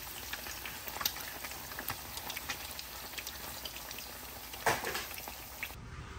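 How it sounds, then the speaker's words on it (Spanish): Eggs frying in a pan, a soft continuous crackling sizzle with scattered pops and one sharper burst near the end, fairly faint and without talk. "ya terminé de freír los huevitos"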